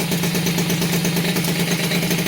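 A Peugeot 103 RCX moped engine idles after its first start following a rebuild, a steady close putter with a rapid even beat and faint clatter, no talking.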